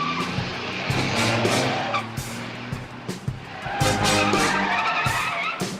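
A stolen car speeds away with tires skidding and squealing, its engine roaring loudly and steadily throughout, with the screech rising again near the end.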